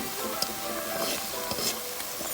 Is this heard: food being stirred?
yes